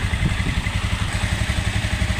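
An engine idles steadily with a fast, even chugging pulse and a light mechanical clatter, close and continuous, with no talk.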